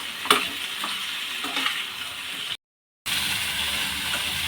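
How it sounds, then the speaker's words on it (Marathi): Green chillies roast in oil in a pan over medium heat for a village-style tomato thecha, giving a steady close sizzle and frying hiss with a few stirring scrapes and a short silent break. "मध्य आचेवर हे आपल्याला सर्व व्यवस्थित भाजून घ्यायचं आहे"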